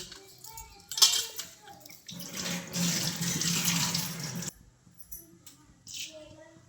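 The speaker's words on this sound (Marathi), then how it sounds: "आता स्वच्छ धुवून घेते" Cluster beans rinsed under a running kitchen tap: water gushes into the sink for a few seconds amid light clinks of dishes and utensils, with faint voices in the background.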